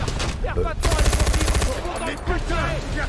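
Rapid automatic gunfire from a firefight in the video game Far Cry 4 at nightfall: dense, loud bursts of shots rattling almost continuously, with a voice talking over the start and the end.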